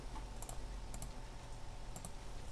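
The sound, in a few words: typing numbers on a computer keyboard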